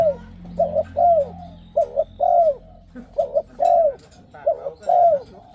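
A spotted dove coos in repeated soft, rounded phrases, several close-spaced notes each, with short pauses between, fairly near and clear against quiet background.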